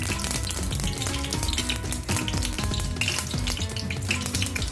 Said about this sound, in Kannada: ಇವಾಗ ಬಿಸಿಯಾಗಿದೆ ಇದಕ್ಕೆ ಡ್ರೈ ಫ್ರೂಟ್ಸನ್ನು ಹಾಕಿ ಚೆನ್ನಾಗಿ ಫ್ರೈ ಮಾಡೋಣ